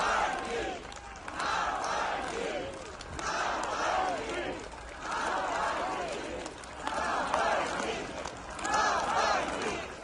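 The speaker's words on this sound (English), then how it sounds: "Crowds could be heard shouting Navalny as his body arrived at the church." A crowd outside the church at Navalny's funeral chants his name in rhythmic surges, several loud shouted rounds rising and falling over about ten seconds.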